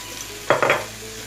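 A short burst of stirring and sizzling as turmeric powder goes into ivy gourd frying in a pan: two or three quick scrapes near the middle, over a faint steady hiss.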